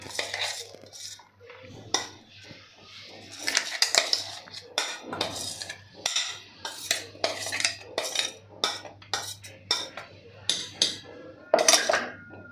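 Rapid metal scraping and clinking of a spoon against a pressure cooker container as dal is transferred into it, repeated strokes in quick succession, close by and fairly loud.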